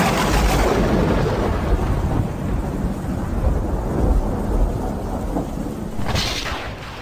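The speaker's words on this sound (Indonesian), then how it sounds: "Hujan makin deras, sehingga kami harus saling berteriak jika berkomunikasi." Heavy rain pours in a dense, roaring wash outside a music studio, with deep thunder rumbling through it and swelling near the end; no voices.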